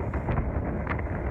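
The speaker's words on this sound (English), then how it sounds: "Pretty windy." Steady wind buffets the microphone at a hang-gliding slope launch in Manilla, a loud, low rumble that continues throughout with no break.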